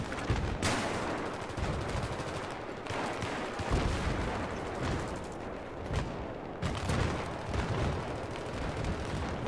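Sustained gunfire in the video game Battlefield 3, with dense repeated shots and bursts rolling through the whole stretch, loud and close, with no talk over it.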